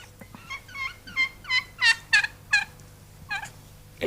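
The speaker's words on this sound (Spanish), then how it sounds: "El guajolote trata de separarlas, aunque sin éxito." A wild turkey gobbles among hens in Mexican mountain country, a series of about nine rapid, warbling bursts that swell louder toward the middle and fade, carried alone with no voices.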